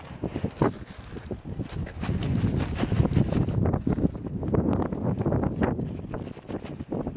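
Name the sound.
strong wind during ice storm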